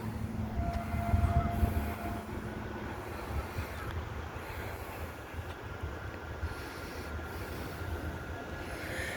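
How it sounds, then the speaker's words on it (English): A Manchester tram runs near the airport, a steady rolling rumble that swells slightly early on and then stays level, with a faint whining tone and a constant background hum and no talking. "Also a tram, 3131."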